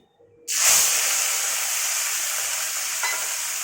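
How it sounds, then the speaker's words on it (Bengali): Turmeric-and-salt-coated fish slides into hot oil in a kadai, setting off a sudden loud, steady sizzle that holds evenly to the end, with no talking. "এই তেলে মাছটা ভেজে নেবো ভালো করে।"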